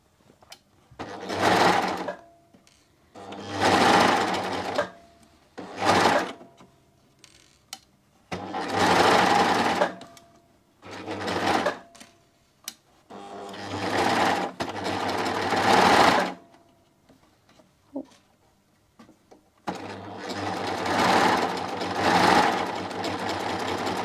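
A sewing machine stitches a silk swimsuit in repeated bursts of steady mechanical whirring, each a few seconds long, separated by short quiet pauses.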